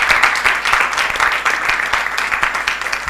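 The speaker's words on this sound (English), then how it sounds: "Can we please give them a round of applause?" An audience at a press conference gives steady, dense applause from many hands, with no pauses throughout.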